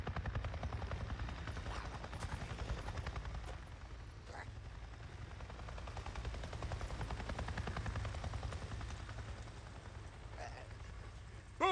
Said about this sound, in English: A Nero chopper! It just buzzed right over me.